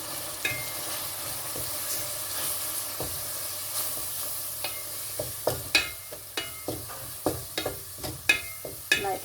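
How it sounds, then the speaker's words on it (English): Sliced chili gets mixed into food frying in a pan, over a soft steady sizzle. Sharp, irregular stirring clacks and scrapes grow more frequent toward the end, with no voices. "Add your sliced chili. And then mix it."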